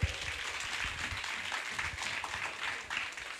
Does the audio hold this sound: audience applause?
yes